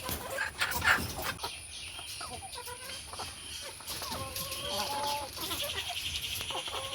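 Several country hens cluck and murmur continuously at close range while being fed, with scattered pecking and rustling noises in a busy, noisy setting.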